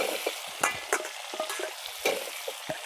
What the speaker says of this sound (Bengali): কচুর লতিটা দিয়ে ভালো করে নাড়াচাড়া করব।